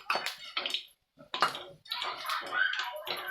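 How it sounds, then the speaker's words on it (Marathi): Chilli bhaji frying in hot oil makes a close, bright sizzling hiss that swells in uneven bursts, with a brief quiet gap partway through. "बघा किती भारी तळत"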